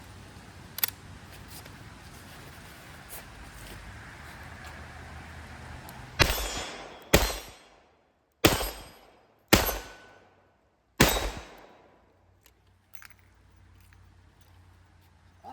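A Smith and Wesson Model 66 revolver fires five shots, loud sharp cracks with short ringing tails at irregular intervals of about one to one and a half seconds, following a quieter stretch of low background noise and faint clicks.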